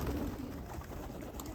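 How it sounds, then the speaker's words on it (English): Racing pigeons coo softly as they are let out of the loft on a drizzly day, with low, steady cooing under broad, constant background noise. "gotta get the birds out now"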